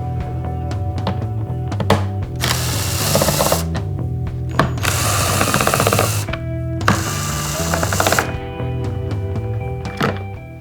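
T20 Torx screws being backed out of the speaker grills in a Jeep JK soundbar with a power driver, giving several close whirring runs of a second or two each, broken by clunks and ratchet-like clicks, with no voices.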